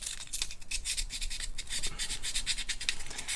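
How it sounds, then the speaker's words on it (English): Sandpaper rubbed by hand over a resin cast art toy, giving a steady run of quick, dry scratchy strokes close up, with no talking. "that's where you just get your piece of sandpaper"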